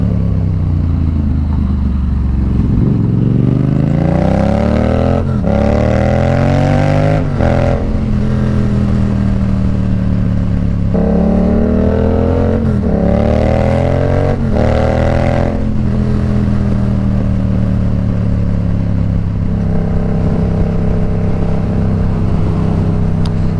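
A Yamaha MT-07 motorcycle engine revs loudly and close, rising in pitch through several gears in repeated surges, then settling to a throaty idle.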